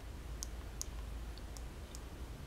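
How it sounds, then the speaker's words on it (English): Several faint, sharp tactile clicks of iPhone 4/4s volume buttons being pressed through a Lifeproof case, spaced about half a second apart over a quiet background hiss. "Then you have your volume up and down, which is, as you can hear, a tactile sound."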